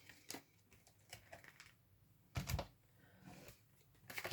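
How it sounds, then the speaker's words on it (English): Tarot cards given a quick shuffle, heard as faint, soft papery bursts and light clicks in an otherwise quiet room, with one fuller riffle midway and no speech. "I'm just going to quick shuffle."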